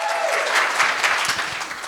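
Loud, sustained applause from a conference audience at a PyCon AU lightning talks session, dense clapping throughout with scattered cheers and a few voices mixed in, fading slightly at the end.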